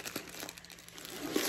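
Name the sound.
plastic wrapping being crinkled and removed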